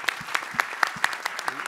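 Applause from an audience in a Paris concert hall, a steady patter of many hands clapping together, fairly close and sustained, with no voices on top.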